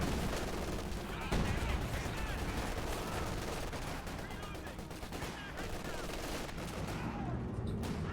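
Sustained distant gunfire rattles across a Company of Heroes 2 battlefield, dense machine-gun and rifle fire with artillery-like thumps blending into a constant faint din under a commentator's voice.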